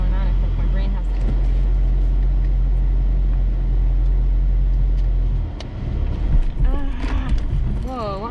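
Shelby GT350 Track Pack with a manual gearbox nearly stalling on takeoff: a loud, steady low engine drone that abruptly drops and turns rough and uneven, with people talking over it in the car.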